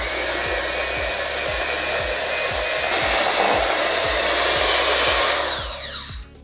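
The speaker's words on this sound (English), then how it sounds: "Now I'm gonna cream it together until it's nice and creamy for 2 minutes." An electric mixer creams butter and sugar for Levain-style cookie dough, a loud steady motor whir with a rhythmic beating pulse that fades near the end.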